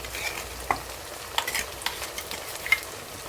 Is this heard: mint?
yes